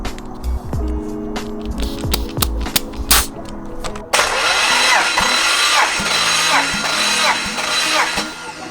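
A BMW M54 inline-six with low compression, under a compression test, cranks over in rhythmic, uneven pulses for several seconds, then a louder, steadier rushing engine noise takes over, with no talking.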